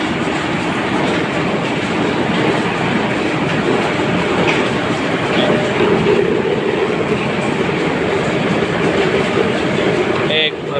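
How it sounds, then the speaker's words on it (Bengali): A wooden ghani oil press grinding coconut runs with a dense, continuous rumbling clatter, loud and close, with a voice talking over it. "এই যে দেখেন কাঠের গানি দিয়ে নারকেলের তেল পড়তেছে"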